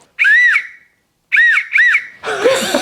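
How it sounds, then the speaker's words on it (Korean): Two or three shrill whistle blasts, the first long and the next two short, followed by a burst of laughter. "호루라기가 되게 시원찮아. 엄청 힘을 줘야지 크게 나."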